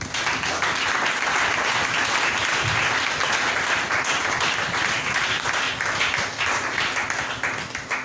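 A church congregation bursts into loud, sustained applause and cheering for the Lord during a French-language sermon, a dense crowd of clapping filling the room steadily for several seconds.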